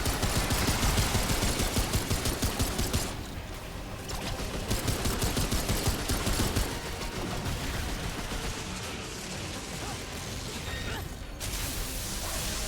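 Heavy gunfire pounds the player in Remnant 2, a loud, relentless machine-gun barrage with rapid repeated shots that barely lets up, dipping briefly before resuming in dense bursts.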